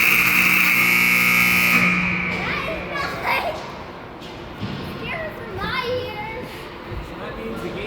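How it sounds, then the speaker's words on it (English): A very loud arena buzzer ends a girls' youth hockey game at the rink, a steady harmonic blare lasting about two seconds before children's chatter and voices fill the rest. "Pretty soon there's going to be a very loud buzzer, okay?"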